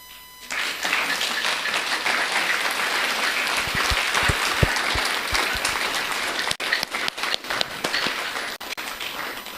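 Sustained audience applause at a youth forum held during a thanksgiving Mass in Kolwezi; a thick, even crowd clapping that rises quickly and continues strongly, with a few sharper individual claps and knocks standing out toward the end.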